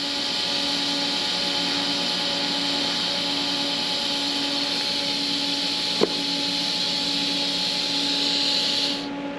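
TIG welding arc running on metal coupons, a steady close hiss and buzz with a faint electrical hum, one sharp click partway through, the arc cutting off just before the end.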